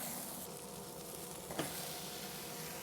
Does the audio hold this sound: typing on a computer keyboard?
no